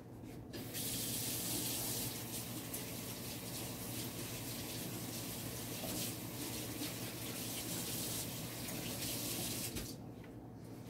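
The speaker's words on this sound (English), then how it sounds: "Let me just wash my hands." Steady rush of water from a kitchen tap while hands are washed during cookie baking, a continuous broadband hiss lasting about ten seconds before it cuts off, fairly close and alone with no talking.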